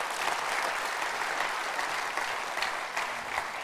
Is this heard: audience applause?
yes